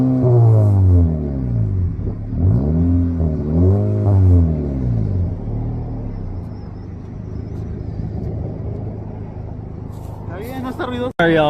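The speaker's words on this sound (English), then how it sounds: "then I'm gonna do some revs." A 2019 Honda Civic Sport with its muffler deleted revs in several rising and falling bursts, loud and close, then settles into a rumbling idle while a person talks over it, ending with a sharp knock.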